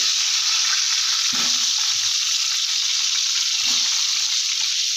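Cut potatoes frying in hot oil for an egg curry hiss in a bright, steady sizzle, with a couple of soft low knocks from the pan, close and continuous with nobody speaking.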